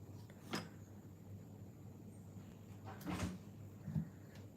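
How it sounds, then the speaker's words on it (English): A dog throws herself against a door indoors, making three muffled thuds spaced a few seconds apart, fairly faint against a low background hum. "Can you hear my dog? She's throwing herself at the door."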